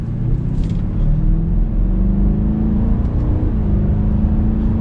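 A 2023 BMW X5 M50i SUV engine drops down to third gear, giving a loud, steady rumbling drone from inside the cabin with a small shift in pitch midway and no talking.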